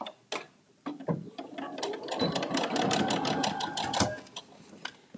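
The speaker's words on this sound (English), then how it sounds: "So that means we're going to sew with the raw edges coming together here." A domestic sewing machine stitches fabric in short bursts and then a sustained run of rapid mechanical clatter, close and fairly quiet, with small clicks before and after.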